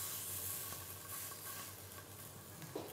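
Beef fillet steak sears in a hot pan, giving a soft, steady sizzle and hiss that stays faint and fairly distant, with no voices.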